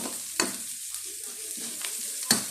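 Onions hit a hot pan after other ingredients have browned, giving a soft, steady sizzle with a few sharp clinks of a utensil stirring, close by and with no talking.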